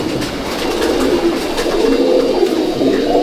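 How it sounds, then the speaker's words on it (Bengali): Racing pigeons cooing steadily in a loft, a dense chorus of overlapping low coos and soft warbles from several birds close by, continuous throughout with no talking. "খুব ভালো পায়রা"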